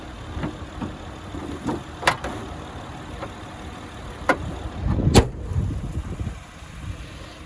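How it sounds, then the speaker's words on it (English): Hood of a 2014 Honda Odyssey Touring minivan, with a front-wheel-drive V6 engine, slammed shut outdoors: a single sharp metallic thump with a few lighter clunks around it, over low background rumble and no talk. "I'm gonna go ahead and drop this hood,"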